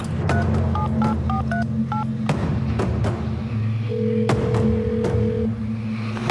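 Telephone keypad tones from a prison phone as an inmate dials a collect call home, a quick run of about a dozen close, loud beeps over a steady low hum, followed by a longer single tone.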